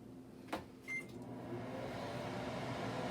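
A microwave oven melting chocolate runs with a steady low hum, opened by a single sharp click and a brief short tone near the start, then a constant even drone.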